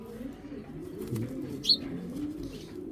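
Racing pigeons cooing softly in a loft, a low steady murmur of coos with one brief sharp chirp in the middle, heard alone without talk.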